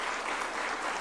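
An audience applauds a football coach during a presidential speech, a short burst of dense, even clapping from a large crowd, fairly distant.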